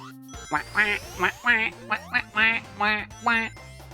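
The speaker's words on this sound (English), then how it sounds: "just sounds like a Genesis Bit Crush duck" A bit-crushed, Genesis-style duck quack from Sonic 4 Episode II repeats about eight times in a steady rhythm. Each quack is short, nasal and buzzy, with brief gaps between them.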